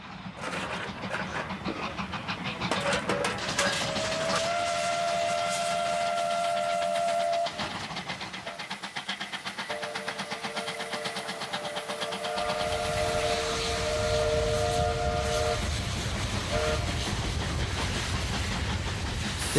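Two West Australian W-class mountain-type steam locomotives double heading up a steep grade, whistles sounding in long sustained blasts over a continuous rumble of working engines and rolling stock, loud throughout.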